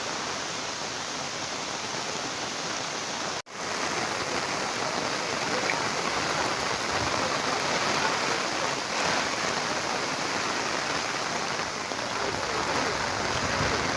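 Heavy monsoon rain pours steadily over a flooding Konkan village by a swollen river, a dense, continuous hiss filling the scene at constant loudness, broken only by a momentary dropout early on.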